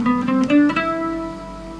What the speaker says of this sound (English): Starting on E, Phrygian.